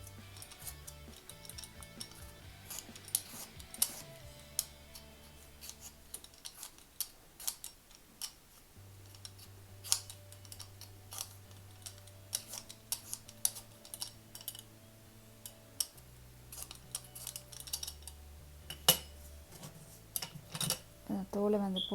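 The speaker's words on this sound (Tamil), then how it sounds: "இதை வந்து தோல் சீவிடலாம்" A beetroot cut in half is peeled by hand with quick, scraping clicks and ticks, repeated unevenly and close by, over steady background music.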